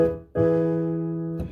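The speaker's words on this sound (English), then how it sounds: "The dominant chord sounds like this." A sustained dominant chord rings out clearly after a brief earlier note, held for about a second before a new attack begins.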